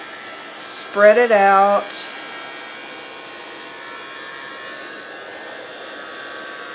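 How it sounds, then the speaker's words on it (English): A heat tool blows steadily over alcohol inks on a vinyl-covered surface, a soft, even airy rush continuing close by after a short spoken phrase at the start. "Take your heat tool and then you can kind of move this around"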